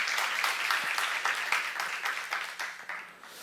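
A church congregation at a small-group leaders' training retreat breaks into brief, bright applause, a close, busy patter of hands that fades slightly toward the end.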